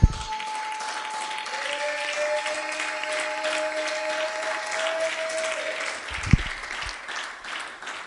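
Church congregation applauding together, a steady broadband clapping that holds for the whole span with a sustained tone ringing above it, a brief louder burst near the end.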